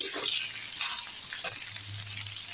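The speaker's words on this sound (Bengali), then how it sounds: "মাছের তেলগুলো দিয়ে এখন নাড়াচাড়া করব।" Fish oil sizzles in a pan while being stirred for a Bengali fish-oil chechra dish, a steady close frying hiss with scraping clinks of the spoon moving through it.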